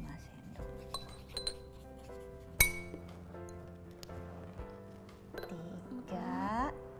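A metal spoon clinks repeatedly against drinking glasses while spoonfuls of water are measured out in a primary-school science lesson on evaporation; bright ringing taps come close and clear, one sharp strike standing out, with voices speaking in between.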